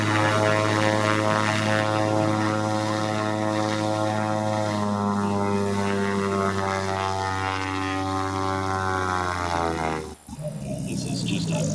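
A P-51 Mustang propeller plane passes at a military airshow, its engine drone loud and steady with a slowly falling pitch as it moves by, then briefly drops away before crowd and ambient noise return; a voice talks faintly underneath.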